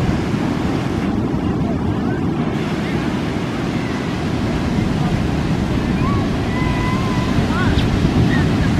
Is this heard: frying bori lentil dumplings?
no